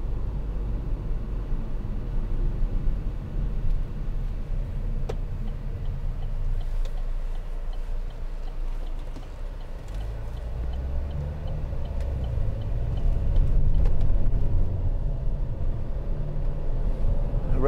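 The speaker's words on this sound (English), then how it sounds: "Just changing down there as I came around the corner." A 2015 Vauxhall Insignia 2.0 CDTi diesel hums steadily from inside the cabin while changing down through the gears around a corner, its low rumble swelling louder toward the end, with faint ticking in the background.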